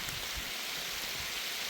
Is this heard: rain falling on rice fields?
yes